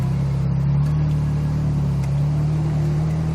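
A Ferrari 458 Italia pulls away from a standstill on the Croix-en-Ternois circuit, its engine a steady, close, loud drone that rises gently in pitch, with no talk over it.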